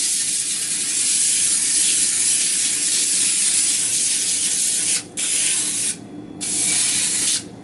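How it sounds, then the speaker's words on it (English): Cooking spray hisses steadily onto a baking sheet for about five seconds, loud and close, then stops and starts in short bursts near the end, with no talking. "Then we'll spray it down."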